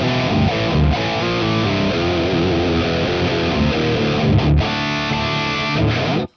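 An electric guitar plays a driven, distorted metal riff through a Gallien Krueger 250ML amp with a dry tone and no echo or chorus, sustained and loud throughout before stopping abruptly.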